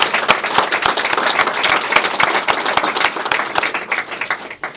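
Audience at a teacher appreciation breakfast ceremony breaks into loud, close applause, many hands clapping in a dense burst that stays strong, then thins and tapers off at the end.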